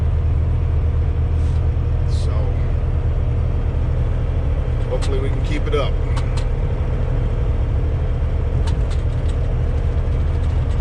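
A truck cruises north on a highway in the morning. A steady, loud, low engine and road rumble from inside the cab fills the whole stretch, while someone speaks briefly over it.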